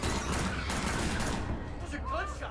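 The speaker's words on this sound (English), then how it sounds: "Those are gunshots." Gunfire from a Stranger Things 2 episode scene, a dense burst of shots filling the opening second and a half under overlapping voices, then fading as speech continues.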